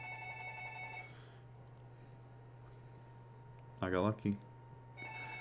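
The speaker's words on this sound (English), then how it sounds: "the phone's going off" A home landline telephone rings in short electronic tones at the start and end, faint and somewhat distant under a steady hum, while a person speaks briefly in the middle.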